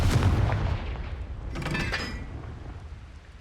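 The Confringo fire spell in the Hogwarts Legacy video game goes off as a heavy, booming blast with a rumbling tail and a brief crackle after, loud and close with no speech.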